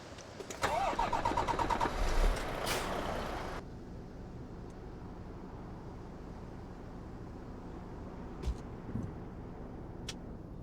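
A truck engine in a trucking video game cranks and fires up with a loud, rattling start lasting a few seconds, then drops to a steady low idle with a couple of brief clunks later on.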